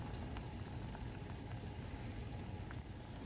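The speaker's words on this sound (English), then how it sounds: "Now put the dumplings in boiling water." Dumplings cook in a pot of boiling water, giving a steady, dense bubbling and hiss that continues throughout, close and alone with no voices.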